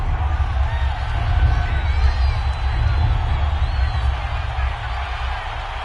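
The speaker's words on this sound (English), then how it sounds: "The crowd getting into it as we come up on a big 3rd down." Crowd noise in an American football video game swells ahead of a big third down, a sustained roar with scattered cheers and whoops running under steady commentary.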